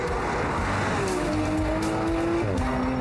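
A Porsche 911 GT3 RS is driven hard through a fast right-hander straight into a left turn. The engine roars loud and close without a break, rising and shifting in pitch, with rushing wind and road noise.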